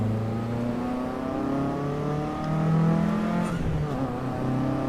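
A race car engine in the driving game Assetto Corsa EVO revs and drones steadily, its pitch rising and dipping with gear changes, loud and continuous with no talking.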